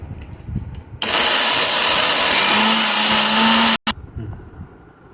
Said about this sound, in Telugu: ఈ విధంగా మెత్తగా మిక్సీకి పేస్ట్ చేసుకోవాలండి